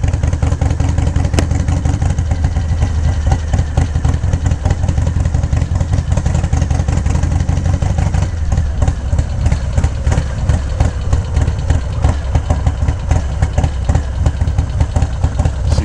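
A Harley Low Rider motorcycle fitted with an S&S 475 cam idles loudly and close by, a lumpy, choppy rumble with uneven pulses that holds steady throughout with no talking.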